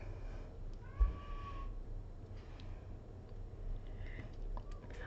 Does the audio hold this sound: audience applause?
no